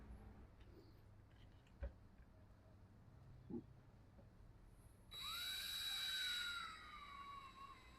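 A drill bores slowly into the sealed EPA plug cap on an RPS ATV150 sport carburetor. A faint high whine runs for about two seconds after a few quiet taps, with no talking.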